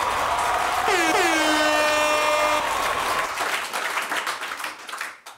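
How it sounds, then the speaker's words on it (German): Applause and cheering break out together with a loud horn-like fanfare, then the clapping thins out and fades. "Dafür muss es einen Applaus geben"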